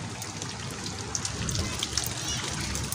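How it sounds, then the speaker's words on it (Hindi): Heavy rain pours down during a storm in Delhi, a dense, steady hiss of drops spattering on surfaces, loud and continuous throughout with no other sound standing out. "इतनी तेज़ बारिश हो रही भाई बहुत तेज़"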